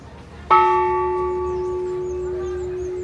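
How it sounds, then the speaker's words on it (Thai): A large temple bell at Wat Lok Moli in Chiang Mai is struck once, giving a clear ringing tone with strong overtones that lingers and slowly fades under quiet background noise. "โอ้ระฆังใหญ่"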